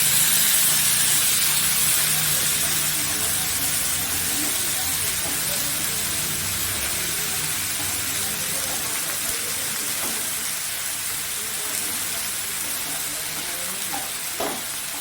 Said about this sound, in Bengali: আদা বাটা ও রসুন বাটা দিয়ে দিচ্ছি। এটা দিয়ে আমি আবার একটু নাড়াচাড়া করে নিচ্ছি।